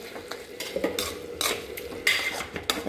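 Pumpkin Kashi halwa is stirred with ghee in a pan, a spoon scraping and clinking against the metal in repeated strokes, with a faint sizzle beneath, close and fairly quiet.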